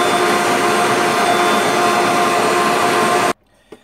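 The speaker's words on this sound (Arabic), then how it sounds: "دابا غادي نطلع الخليط ديالي ديال لا كريم فريش" An electric mixer whipping crème fraîche for a no-bake chocolate cheesecake, a loud, steady whirring drone that cuts off abruptly near the end, followed by a faint clink.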